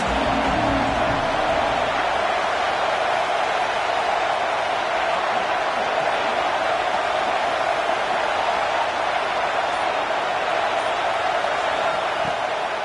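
A football stadium crowd keeps up a steady, dense roar of cheering and noise throughout, loud and unbroken with no distinct voices standing out.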